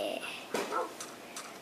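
Minecraft dog sounds from the video game: a short yip near the start followed by a brief whimpering bark, fairly quiet and close, with faint game ambience between the calls.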